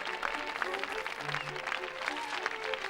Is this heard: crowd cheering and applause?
yes